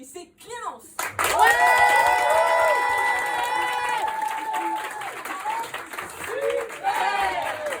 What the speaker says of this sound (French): Je vous demande de faire un tonnerre d'applaudissements pour la première qui va passer ici.